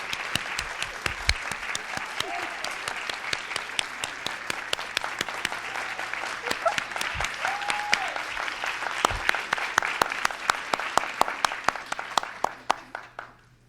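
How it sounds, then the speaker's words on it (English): Audience applause at an evening history panel event in Chicago, a long sustained wave of many hands clapping with a few sharp close claps standing out, thinning and fading near the end. "Everybody give her the acknowledgement and a round of applause."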